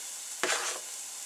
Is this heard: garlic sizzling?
yes